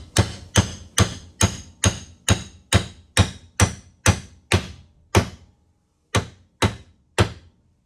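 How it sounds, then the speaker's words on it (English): A hammer strikes steadily about a dozen times in a quick, regular rhythm, each blow a sharp close thud, then a pause and three more hits, during a build of an ETM 540 trophy vehicle. "let's see if the good old hammer time method works"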